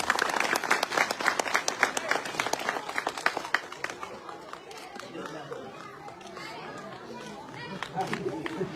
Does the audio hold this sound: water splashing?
no